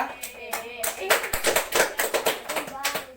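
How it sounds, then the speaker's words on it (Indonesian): A small group in a classroom claps, uneven overlapping hand claps for a few seconds, fairly close, with some voices mixed in. "Tepuk tangan untuk kelompok 2."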